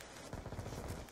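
Gunfire in Call of Duty Black Ops 2 during a Free For All online match, a faint burst of rapid automatic shots crackling at a distance for about a second.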